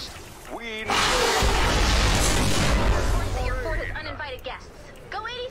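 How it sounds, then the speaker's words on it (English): A loud crackling, rumbling burst like a lightning strike in the Fortnite video game, lasting a few seconds before fading, with someone talking over it. "I think that sound is literally as they're destroying encampments and, like, killing all the creatures in them. It's the lightning strike."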